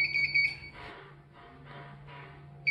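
A laboratory autoclave, used to sterilize maltose agar for culturing mushroom mycelium, gives off a high, steady electronic beeping alarm at the start, then goes quiet over a low hum before the beep briefly returns at the very end.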